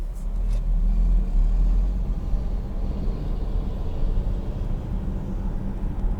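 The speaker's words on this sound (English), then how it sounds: "It is full EV. Because this is foot to the floor." A 2022 Volvo XC60 T8 Recharge accelerating hard in full electric mode, a deep continuous rumble of road and tyre noise with a low hum inside the cabin, steady throughout with no speech.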